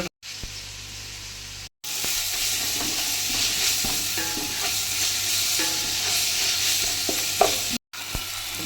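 Ground onion paste frying in a pan with ginger-garlic paste, a strong continuous sizzle and hiss with scraping stirring strokes throughout, broken by a couple of brief silent cuts.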